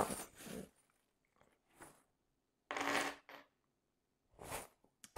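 Small divination charms are shaken and dropped in several separate bursts of bright clinking and rattling, like coins spilling onto a surface, with quiet gaps in between.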